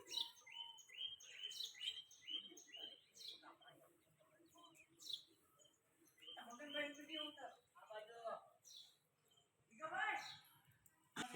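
Bursts of sparrow chirps, short and bright, scattered across the clip with a few busier flurries, with faint voices murmuring in the background.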